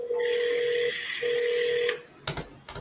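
Telephone keypad dialing tones while placing a call: two long, steady electronic beeps separated by a short gap, followed by a few quick clicks and bumps from handling the phone.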